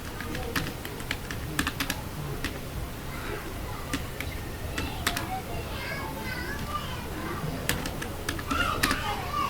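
Clicking keystrokes on a computer keyboard come in irregular bursts of sharp taps, while children play and chatter in the background.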